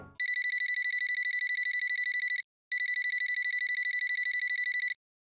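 An electronic telephone rings in two long trilling bursts separated by a short pause, loud and close, with no voices.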